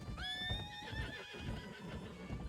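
A horse in a video game whinnies loudly with a long falling neigh, while steady clip-clop hoofbeats of riding continue underneath throughout.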